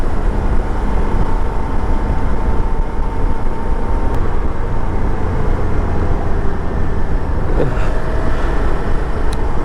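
Motorcycle ride on a foggy mountain road to Kedarnath, with a steady, loud roar of engine and wind noise running unbroken throughout and no talking.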